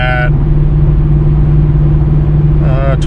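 A Pontiac G8 GT idles through its old exhaust setup, a steady low rumble that holds loud and even throughout, with brief voices at the start and end.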